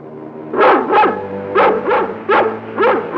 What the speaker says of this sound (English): That sounds like King's bark.